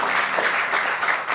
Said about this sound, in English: Can we give some applause, please, to Marjani?